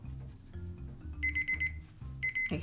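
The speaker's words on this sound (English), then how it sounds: "The timer went off." A timer goes off with two bursts of rapid, shrill electronic beeps, clear and close, over a steady low background hum.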